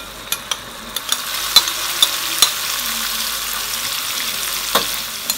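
Fish sizzling as it fries in a pan of hot oil, with a steady close crackle broken by several sharp pops and spatters, and no voices.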